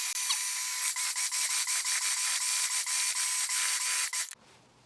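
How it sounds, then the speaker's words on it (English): A food processor blends a smoked salmon dip with shallots, a loud, steady whir broken by regular pulsing beats, then cutting off abruptly just before the end. "Let's go ahead and blender this mess up."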